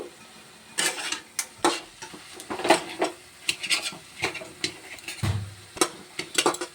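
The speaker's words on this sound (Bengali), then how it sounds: "ঢাকনা খুলে আবার কিছু নাড়াচাড়া দিয়ে নিব অল্প" Fish head being stirred with colocasia greens in a pan, heard as a run of sharp, close scraping and clinking utensil strokes in an irregular rhythm, with no talking.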